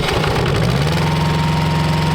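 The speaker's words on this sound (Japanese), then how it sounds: "エンジンかけてみようかなみたいな感じでねやってます" A mini excavator whose track has slipped off its footing has its engine fired up. It catches and rises quickly to a loud, steady, throbbing diesel idle heard close up, with no voices.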